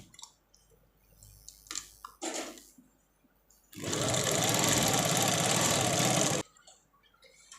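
Sewing machine stitching the shoulder seam of a frock, a steady close whir running about three seconds at even loudness after a few soft handling clicks and rustles.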